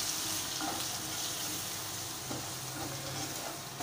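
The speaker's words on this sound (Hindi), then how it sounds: "अब मैं इसको इसके साथ थोड़ा सा भून लूँगी।" Boiled mutton frying with spices for bhuna gosht, a steady close sizzle with continuous hiss and a few faint clinks from stirring.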